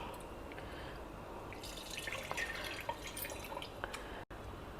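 Soft wet squelching and dripping as soaked tamarind is squeezed by hand to extract its juice, close and fairly quiet, with no talk.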